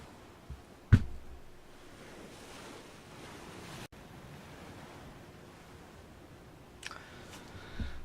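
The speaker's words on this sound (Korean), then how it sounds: "저 바다에 잠겨있는 내 시체와 이 바다 소리가 왜 이렇게 슬프게 들리는 것일까?" Sea waves in PUBG: Battlegrounds, a soft continuous wash of surf and wind with a few sharp thumps and a brief clatter near the end.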